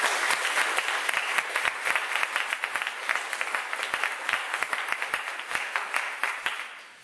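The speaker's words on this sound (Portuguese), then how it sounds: "uma salva de palmas com a palavra do Senhor" A church congregation bursts into applause after a Bible reading, full rhythmic clapping that stays strong for several seconds, then thins into more separate claps before stopping.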